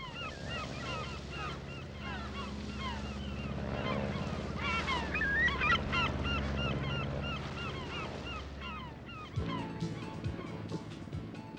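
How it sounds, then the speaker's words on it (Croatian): A crowd of seagulls calls continuously off the Sardinian coast, squawks overlapping, with a low rumble of water or engine underneath. "Tako se tu gnijezde brojne ptice, najviše galebovi i razni gnjurci."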